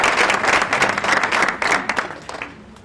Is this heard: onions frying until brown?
no